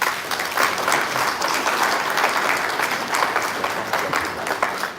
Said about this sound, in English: Applause as he takes his seat.